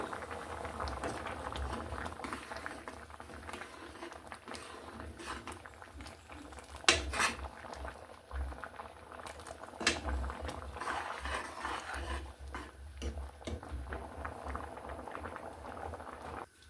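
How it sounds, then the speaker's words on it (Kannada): Basale (Malabar spinach) sambar boils in a pot, a soft, continuous bubbling and blipping at close range with a couple of sharper pops, no talking. "ಸಾಂಬಾರು ಚೆನ್ನಾಗಿ ಕುದಿ ಬರ್ತಾ ಇದೆ"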